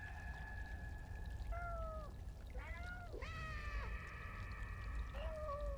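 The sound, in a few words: cat meowing in a cat video game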